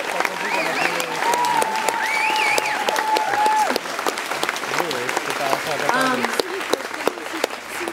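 Concert crowd at a performance in Luxembourg applauds continuously, with cheering voices and a held musical tone rising over the steady clapping.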